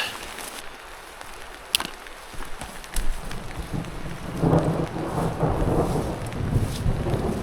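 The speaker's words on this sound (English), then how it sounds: "It's worth it just to walk and listen to that thunder." Thunder rumbles low and distant through steady rain during a storm along a trout river, building into a louder, rolling swell in the second half over a constant hiss of rainfall.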